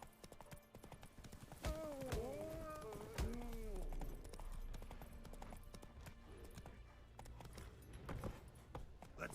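Roach the horse in The Witcher 3 trots with steady clip-clopping hooves, joined by a couple of whinnies and snorts, as someone talks over the scene.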